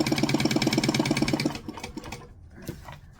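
A sewing machine stitches a fabric bag closed with a fast, even mechanical chatter up close for about a second and a half, then stops, leaving a few faint handling sounds.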